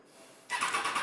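A Triumph Trident motorcycle engine fires up at a motorcycle dealership event, a sudden loud catch from quiet into a rough, steady mid-pitched running roar.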